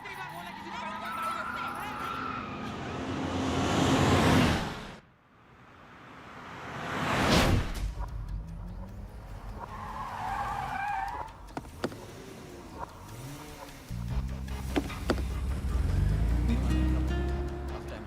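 A car flees in a film chase scene, its engine surging and tires skidding in loud swells broken by a sudden cut, then more rushing motion and a low rumble, with voices speaking throughout.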